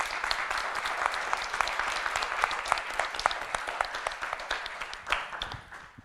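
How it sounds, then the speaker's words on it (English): An audience at a digital nomad wrap-up event in Zagreb gives a round of applause, dense individual claps close by, steady and lively, tapering slightly toward the end. "A big round of applause for everybody."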